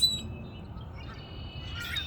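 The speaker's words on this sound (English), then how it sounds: "I don't know if you could hear all the fucking chirping" Small birds chirp outdoors in a few faint, high tweets over a soft, steady background hiss, distant and sparse.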